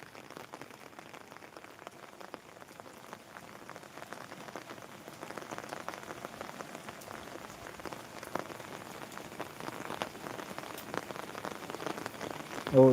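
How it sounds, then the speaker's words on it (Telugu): Light rain patters steadily on surfaces in a village, a soft, continuous hiss of drops that builds slightly toward the end, with no voices. "మా ఊళ్ళో అయితే ప్రస్తుతానికైతే మాకు ఇదే కొంచెం వర్షం పడుతుంది"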